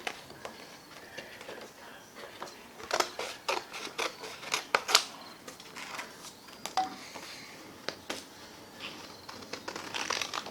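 Scissors snipping through material for a Hocus Pocus themed tumbler, including crime scene tape, in a run of quick close crisp cuts with light crinkling between them, no voices.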